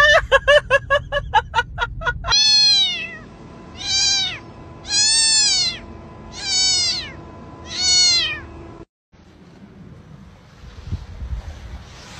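Kittens inside a chicken coop give a quick run of high, close meows, then five long, loud, drawn-out cries at a steady pace, ending in outdoor wind noise and rustling.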